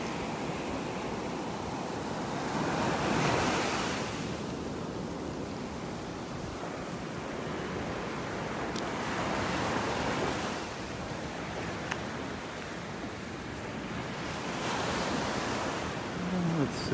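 Ocean surf on a beach in North Naples, Florida, with waves breaking and washing ashore in repeated surges every few seconds over steady wind noise, no speech.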